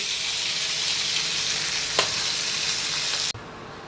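Mustard oil sizzles steadily in a pan, a dense even crackle with a brief flare near the middle that cuts off abruptly near the end.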